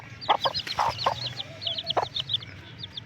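A hen clucks close by while feeding her chick a butterfly, giving a handful of short, bursty clucks over several seconds amid faint high chick peeps and low background noise.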